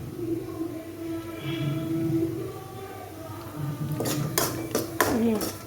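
A spoon scrapes and clinks against a pan while gooseberry rice mixture is stirred, several metallic knocks near the end over a low steady cooking hiss, with faint talk in the background.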